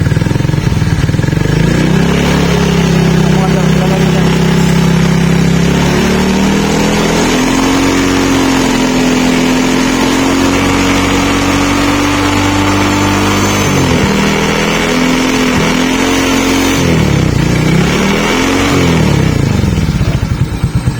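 A Suzuki Raider J 115 Fi motorcycle, fitted with a full-wave regulator, runs continuously close by, its engine rising into sustained revs, then dipping and surging again before settling near the end, loud and unbroken throughout.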